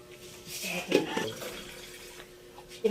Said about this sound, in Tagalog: Nilagyan na rin po ni tatay ng tubig.